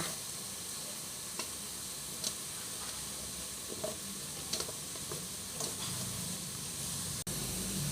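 Eggplant frying in a pan with eggs gives a steady, faint sizzle and hiss, dotted with soft stirring clicks and one sharp knock near the end, with no voices.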